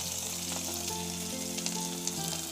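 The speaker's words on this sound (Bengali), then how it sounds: "এবারে আমি ওর ভিতরে দিয়ে দেবো যে পেঁয়াজ কুচি করে" Chopped onions sizzle and crackle steadily in hot oil in a wok for an egg curry, a continuous close frying hiss with a faint low hum beneath and no talking.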